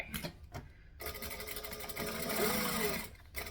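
A sewing machine stitches down fabric during a Josie by KM Designs bag project, a steady close mechanical whir running almost continuously after a brief start, with short pauses at the beginning and end.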